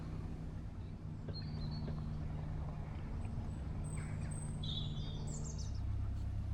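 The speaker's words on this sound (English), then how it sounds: "we should hear lots of birds. There are already some." Faint, scattered bird chirps and short whistles over a constant low narrowboat engine hum, a quiet outdoor setting on a canal.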